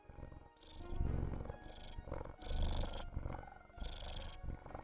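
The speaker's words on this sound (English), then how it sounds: "Let me see if you guys can hear her purring." A cat purrs close by in slow, rumbling waves, each breath swelling and fading in a steady rhythm.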